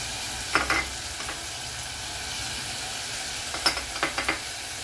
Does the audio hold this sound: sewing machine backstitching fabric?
no